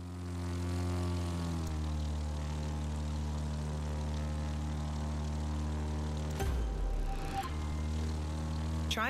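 A propeller plane in The Crew 2 video game flies with a steady, loud, droning engine hum and rich buzzing harmonics, briefly interrupted by a short rumbling whoosh and a click before the drone resumes, no talk.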